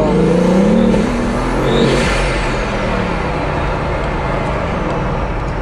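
Engine of a 1001-horsepower Bugatti driving in Dubai while its tyres and mechanicals are warmed up, a loud steady roar with a brief rising rev near the start, heard close from inside the car without talk.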